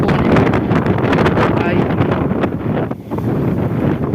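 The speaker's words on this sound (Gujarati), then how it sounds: "પવન ખતરનાક છે" Strong gusting wind roars and buffets the microphone continuously in a farm field under dark rain clouds, with a brief lull near the end before it picks up again.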